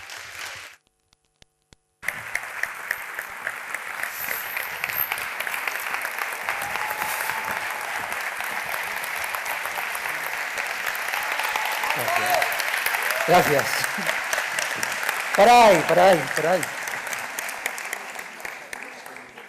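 Audience applause at a live stand-up comedy show swells steadily and grows louder toward the end, with a voice speaking over it near the start and again later.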